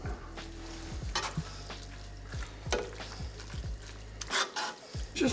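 Lemon butter cream sauce stirred in a pan, a quiet scraping and swishing under a soft sizzle, with occasional clinks of the utensil against the pan.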